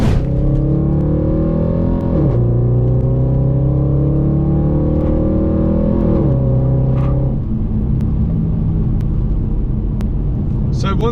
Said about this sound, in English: I might as well test drive the S5 whilst I'm there.